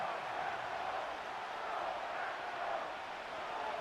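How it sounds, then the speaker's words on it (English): Stadium crowd noise in Madden 25 football, a broad steady roar of fans holding at a constant level before a third down, with no distinct peaks. "This crowd into it now as we get to 3rd down"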